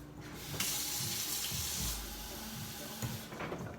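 A kitchen tap runs for a smoothie, a loud, continuous hiss of water pouring into a container that swells briefly and then settles, with light clattering underneath.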